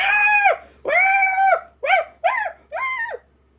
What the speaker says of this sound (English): The barking and mournful howling went on.